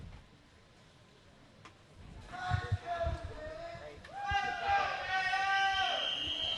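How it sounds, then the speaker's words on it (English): A crowd cheering at a high school swim meet between Shaler Area and Penn Trafford, distant hollow pool-hall cheers and whistles swelling in the second half beneath a commentator talking. "As you can hear all the cheering in the background"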